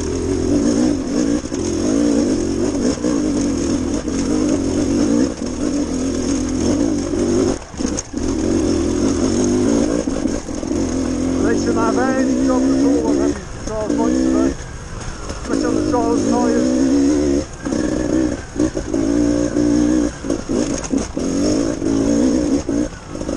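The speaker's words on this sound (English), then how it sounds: "Dave and Stuart on their long range trials bikes." Trials motorcycles ride a technical green lane in Wales, their engines loud and close, rising and falling in repeated revving bursts with short throttle drops throughout.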